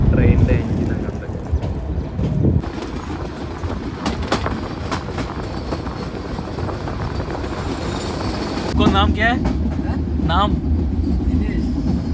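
A short Goram Ghat passenger train with a few general-class coaches runs through Rajasthan, its steady loud rumble and wheel clatter continuing throughout, with people talking nearby over the noise.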